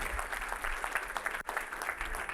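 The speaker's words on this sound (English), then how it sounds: "Give Coach L a round of applause." An audience applauds the new athletic director of Harvest Prep at a sports commitment meeting, a steady patter of clapping hands that fills the room briefly with no talk over it.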